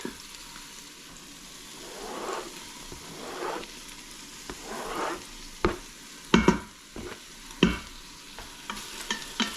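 Garlic sizzles quietly in an Instant Pot during one-pot pasta cooking, with soft frying hiss and several sharp scraping clicks of a utensil stirring toward the end.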